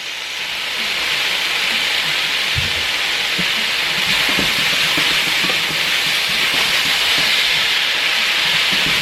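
Beans and cabbage go into a hot pan for a chicken stir fry, giving a loud, steady sizzling hiss that holds for several seconds, close by, with no talking.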